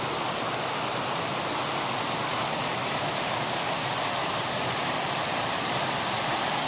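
A small, modest river flows steadily near an old mill site in Lithuania, giving a continuous broadband rush of water that stays even and fairly close throughout, with no voices.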